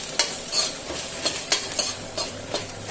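Onion hits ginger and garlic frying for a kada chakka dish, producing a close, bright sizzle with a run of regular spoon scrapes and taps on the pan and no speech.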